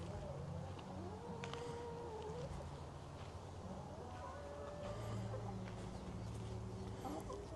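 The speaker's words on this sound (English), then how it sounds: "Sneaky bad chicken." Backyard garden hens cluck softly and steadily, with faint, low murmuring calls continuing throughout at a quiet, close-to-moderate distance, with no talking.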